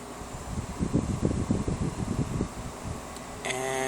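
A new air conditioner runs on its normal cool setting, with a steady whooshing fan hum and airflow rumble heard up close, and no one talking.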